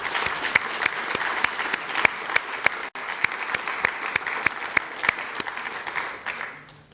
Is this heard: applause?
yes